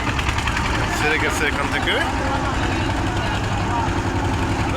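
A river trawler boat's engine idles as a steady low drone beside a wide river, running continuously beneath people talking nearby.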